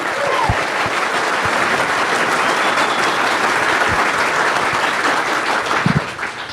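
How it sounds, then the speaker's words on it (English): Audience applause at a live debate event on whether Christians must support Israel, steady dense clapping from a crowd filling the whole stretch, close and loud, tapering slightly at the end. "First of all, big round of applause for Dinesh real quick."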